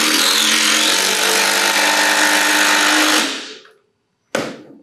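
A HART impact driver runs in a head-to-head test against a RYOBI: a loud, continuous buzzing whir for about three seconds that winds down to silence, then a short sharp burst near the end.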